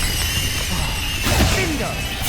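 A fiery Confringo blast spell in Hogwarts Legacy bursts with a dull crash and whoosh over a dense, noisy game mix of rumble and effects.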